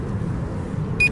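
Volantex SonikRC Corsair RC plane powering on, giving a short electronic beep near the end over a low hum of background noise.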